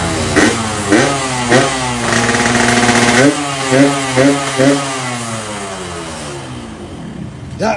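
At a used motorcycle showroom, a motorcycle engine sputters to life and revs repeatedly in short bursts, rising and falling, then settles into a steady rough idle close by.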